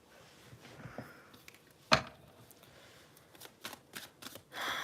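Cards shuffled for a card reading, a close riffle with one sharp snap, then light flicking and rustling of the deck in short, quiet bursts.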